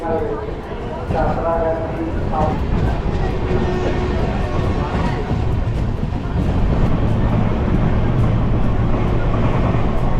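A passenger train pulls out of platform two at Santragachi station on the Howrah to Digha line, giving a steady, loud rolling rumble that grows slightly toward the end, with voices carrying over it.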